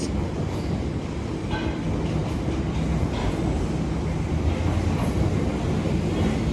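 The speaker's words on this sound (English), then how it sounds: "there is departing now is the London Overground service to Watford Junction." A London Overground train pulls away towards Watford Junction, giving a continuous loud rumble of wheels and motors with faint rail clicks and squeals, heard from the platform with no talk.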